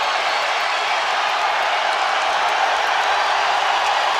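A steady, loud roar of crowd noise fills a college wrestling arena during an Oklahoma State versus Iowa dual meet, a continuous wash of cheering with no breaks across the whole span.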